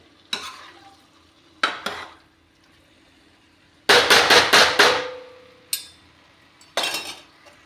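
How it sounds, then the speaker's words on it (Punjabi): Cauliflower sabzi stirred in a pan, a spoon knocking and scraping the metal in separate bursts, including a quick run of clanks, over a faint sizzle with quiet gaps between, no talking. "ਚੰਗੀ ਤਰ੍ਹਾਂ ਸਬਜ਼ੀ ਨੂੰ ਸਾਰੀ ਨੂੰ ਮਿਕਸ ਕਰ ਦਾਂਗੇ"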